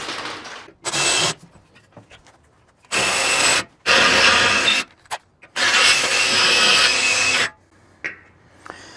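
A power drill with a dull bit whines in several loud bursts of a few seconds each, grinding into wood, separated by quiet pauses and small handling clicks.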